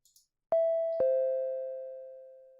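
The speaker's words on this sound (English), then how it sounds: "The doorbell rang." Two clean chime tones of a ding-dong doorbell ring in the Japanese indie horror game Giggle Hisohiso, the second note following half a second later and both decaying slowly in near silence.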